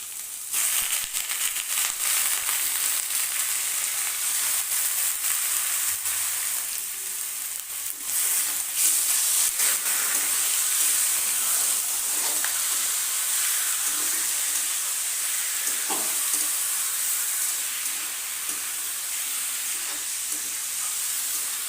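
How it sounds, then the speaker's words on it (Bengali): Chicken pieces frying in hot oil with onions for a tribal-style chicken and potato curry: a steady, close, loud sizzle and hiss that runs the whole time, with small stirring crackles and no talking. "মাংসটা ভাজা হয়ে এসছে"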